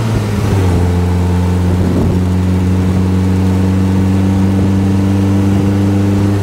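A 1936 Riley 12/4 TT Sprite Special open tourer, a four-seater, pulls under power with a steady, loud mid-pitched engine drone and rising tone, heard from on board with no talk.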